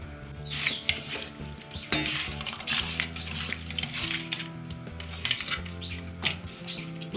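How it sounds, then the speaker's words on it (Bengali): Pabda fish being hand-mixed with salt and turmeric in a large bowl, producing steady wet squishing and light clinking close by, with no voices. "দিয়ে আমি নুন হলুদ মেখে নিচ্ছি"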